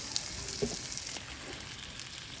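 Elephant foot yam (karunai kizhangu) pieces frying in a pan for varuval give a steady, soft sizzle with a few sharp pops, close and alone.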